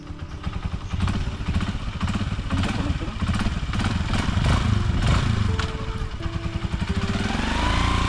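Motorcycle being driven, its engine idling and revving close by with uneven surges and clatter, with some faint talk in the background.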